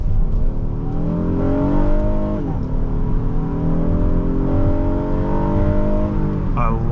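Engine of a 2020 Honda Odyssey Elite minivan while driving, a steady loud hum with rising harmonic tones as it accelerates, dipping briefly around a gear shift and climbing again.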